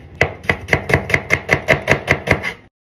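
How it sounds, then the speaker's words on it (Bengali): A knife chops onions on a board in about a dozen evenly spaced, crisp, close thuds, a steady brisk rhythm that stops abruptly at the end. "এক ফাঁকে আমি 2 টেবিল পরিমাণ আমি পেঁয়াজ কেটে নিলাম"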